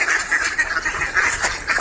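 Many ducks quack in quick overlapping bursts, a busy flock close by with steady, chattering calls throughout.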